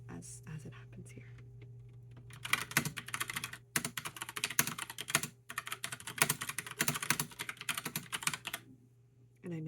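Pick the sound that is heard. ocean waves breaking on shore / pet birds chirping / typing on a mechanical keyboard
typing on a mechanical keyboard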